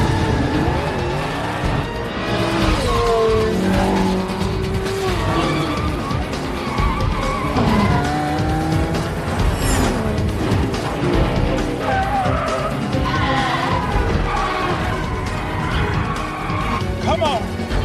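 Race cars in a Fast and Furious film street race skid with loud tire squeals and roaring engines, a continuous, dense movie soundtrack with voices mixed in.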